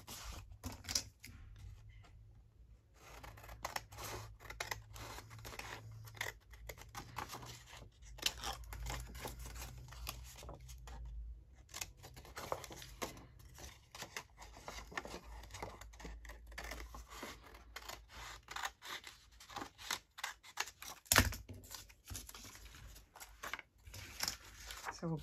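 Scissors trimming the border off a sheet of paper for a library card pocket, a steady stream of close crisp snips and crinkles running throughout, with a person talking at times.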